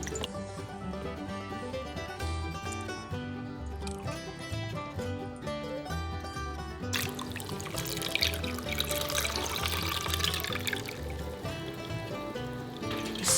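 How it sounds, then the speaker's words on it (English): Lemon juice for marmalade trickles and splashes as it is strained and pressed through cheesecloth into a pot, a soft wet pouring under background music that swells partway through. "Strain that out and push out as much liquid as you possibly can."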